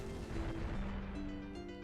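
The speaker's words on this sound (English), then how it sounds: "That was a hell of an explosion." A boulder blown up by detonation in Final Fantasy 8 makes a loud, sustained rumbling blast with dense low roar, with steady game music tones running underneath.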